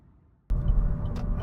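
A 2017 Chevrolet Cruze diesel with manual gearbox driving, a steady low rumbling engine and road drone that starts abruptly after a brief quiet moment and holds close and loud.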